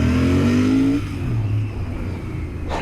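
Royal Enfield GT motorcycle engine revving, a rising pitch that then drops and settles into a steady rumble, loud and close, with no talking.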